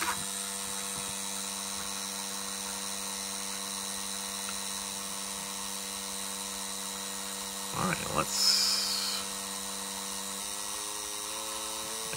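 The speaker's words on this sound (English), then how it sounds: "We have bypassed the rev limit." An engine with Bosch L-Jetronic fuel injection and a bypassed rev limiter is held at very high revs, giving a steady, sustained high-pitched whine. A brief rough burst comes near the end before the pitch steps slightly.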